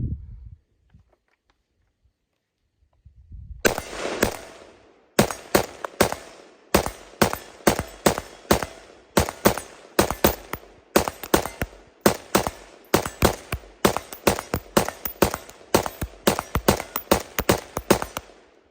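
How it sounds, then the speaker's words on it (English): A Steyr AUG A3 rifle in 5.56 NATO empties a full 30-round magazine. Loud, close single shots crack out at a quick, steady pace, each followed by a short echo, with only quiet background before the firing begins. "I'm going to go ahead and just mag dump this 30."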